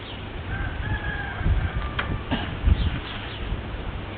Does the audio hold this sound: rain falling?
no